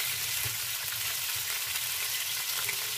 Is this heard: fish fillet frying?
yes